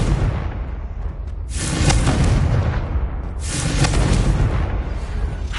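Confringo, the fiery explosive spell in Hogwarts Legacy, fires with deep rumbling booms: one blast swells around two seconds and another around four, each over a sustained roar and crackle, loud and close.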